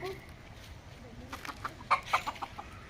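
Chickens cluck in a short flurry of sharp calls, moderately close, over outdoor background noise.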